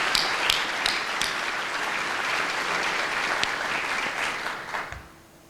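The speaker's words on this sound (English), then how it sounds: "please join me in a round of applause for the trustees and all of their hard work too" Sustained applause from the audience at the Erie Community Foundation annual meeting, a steady wash of many hands clapping that carries on evenly for several seconds, then tapers off near the end.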